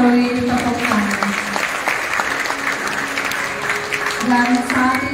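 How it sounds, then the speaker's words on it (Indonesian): Loud, sustained applause from a wedding congregation, a dense steady roar of clapping filling the room with voices and cheers mixed in throughout. "Sekali lagi dengan meriah kita berikan dukungan melalui tepuk tangan."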